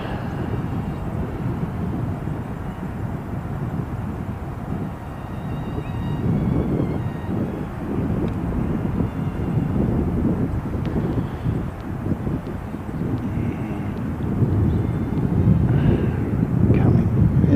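A Qantas airliner passes at a distance with a low, broad jet rumble that slowly builds and swells toward the end, mixed with gusty wind buffeting the microphone.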